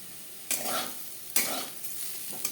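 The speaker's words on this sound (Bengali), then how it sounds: "আলু ভাজা হয়ে গেছে" Fried potatoes are stirred in a wok, with several scraping strokes of a spatula against the metal over a quiet background sizzle.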